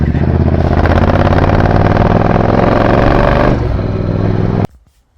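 A Triumph Bobber motorcycle engine runs loud and close with a steady throbbing idle at traffic lights, then drops in level and abruptly cuts off near the end.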